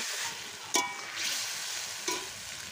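Pointed gourd and prawns with green chillies sautéing in a pan, a steady hissing sizzle broken by two distinct scraping stirs, close and fairly quiet with no voices.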